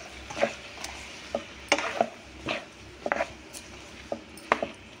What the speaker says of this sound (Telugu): అలాగే పసుపు వేసుకొని కలిపేసుకుందాం.